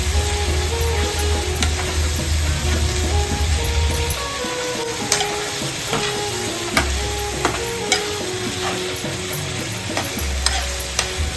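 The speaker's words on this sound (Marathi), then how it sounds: "आता आपण त्याच्यामध्ये टाकणार आहोत थोडीशी हळद आणि पहिला ती हळद पूर्ण मिक्स करून घेणार आहोत" An oyster mixture with turmeric sizzles in a pan while being stirred, a loud steady frying hiss broken by repeated spoon scrapes and clicks, with a low hum coming and going underneath.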